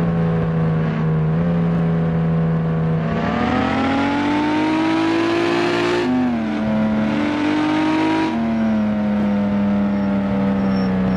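A car engine in the Ski Resort Driving Simulator video game hums and revs in rising and falling pitch steps as the vehicle accelerates and eases off, loud and continuous with no talking.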